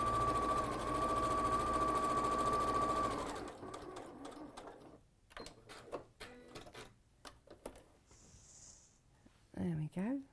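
A sewing machine hums in a steady, loud run of stitching for about three seconds, then stops; after that come scattered clicks and handling noises with people talking.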